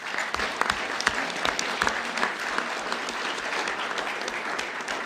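Sustained applause from an audience at a national high school economics competition event, dense and even clapping continuing throughout.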